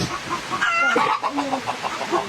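A chicken clucks close by in a run of short, choppy calls, with faint background voices at times.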